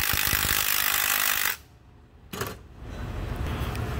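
A power tool removes Torx 30 screws from a Ford 6F35 transmission during a teardown, giving loud close whirring bursts that stop briefly and then start again.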